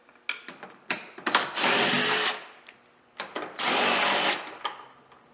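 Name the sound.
power tool with 10mm socket removing bolts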